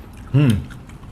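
A single crunchy bite into air-fried elote coated in hot Cheetos, close and brief, followed by quiet chewing.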